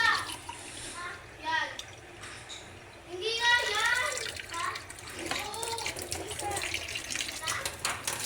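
Water from three glasses splashes and runs steadily into a cooking pot nearby while a person talks over it.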